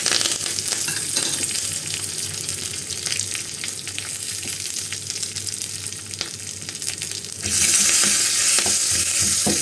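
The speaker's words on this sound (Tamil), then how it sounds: "தட்டி வச்சுருக்க பூண்டும் கருவேப்பிலையும் போட்டுக்கலாம்." Crushed garlic and curry leaves fry in hot oil alongside already-popped mustard seeds and cumin, giving a loud, steady close sizzle with faint stirring scrapes that swells brighter near the end; no one speaks.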